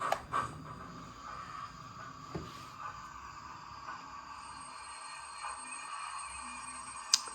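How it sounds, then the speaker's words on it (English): A Bachmann 9F model steam locomotive with DCC sound plays its automatic braking effect, a faint, thin metallic squeal with soft hiss and a few small clicks under quiet background, lasting several seconds. "the feature I like about the Bachmann one is it's got auto braking sound effects"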